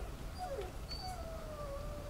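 A dog enemy in the video game Dark Souls gives a few whining, howl-like cries that slide up and down in pitch over a steady bed of game background noise, with no talking.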